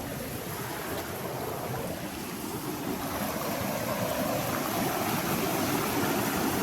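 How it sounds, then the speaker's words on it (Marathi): A waterfall on a hillside trail at Harishchandragad, swollen by the first monsoon rain, rushes as a steady, dense roar of water that never lets up, with no voices. "हे बघा डायरेक्ट धबधबा"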